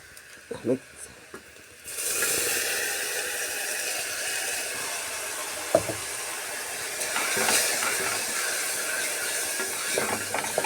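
Ground paste poured into a pan of sautéed onions for soya chunks curry, a few soft knocks, then a sudden steady sizzle that swells and continues with faint scraping.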